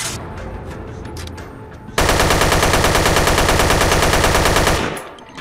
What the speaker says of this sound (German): Schießen wir jetzt einfach mal um die Ecken